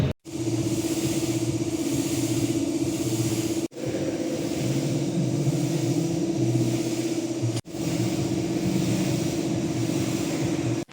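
A fan blows a steady, loud whooshing airflow over a freshly washed Suzuki Gixxer motorcycle to dry off the water, a constant roar with low hum that cuts out briefly twice.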